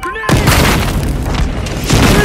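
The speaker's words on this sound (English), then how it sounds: "Grenade!" A grenade detonates in the Battlefield Hardline video game, a loud deep boom that hits suddenly and rolls on, with a second swell of rumble toward the end.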